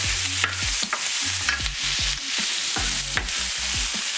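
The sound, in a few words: garlic and onions frying and being stirred in a pan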